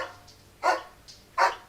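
A dog barks twice, two short sharp barks spaced under a second apart, close and moderately loud over faint background hum.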